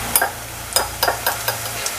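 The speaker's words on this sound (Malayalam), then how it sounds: "നമ്മുടെ പൊടികളെല്ലാം ഒന്ന് മിക്സ് ചെയ്തെടുക്കണം." Spice powders being stirred into clay pot meal masala sautéing in a pan, several short scraping strokes at a steady pace over a soft sizzle, close by with no talk.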